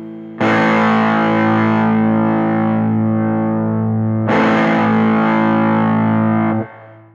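Electric guitar played with the drive pedal switched on, recorded in Logic Pro: two loud, distorted sustained chords, each struck and left ringing for several seconds, with a brief gap between them.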